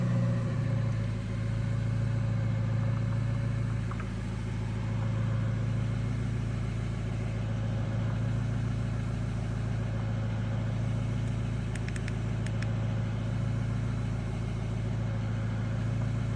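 A 1.9/2.0 TDI diesel engine running at a steady idle with a rough starting fault under repair, a constant low hum and rumble heard close and without voices.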